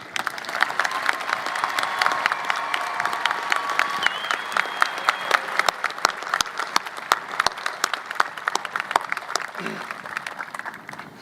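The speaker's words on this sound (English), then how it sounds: "Please join me in one more round of applause of appreciation" Sustained applause from a large audience at a high school graduation ceremony, steady and dense throughout with a few louder individual claps standing out.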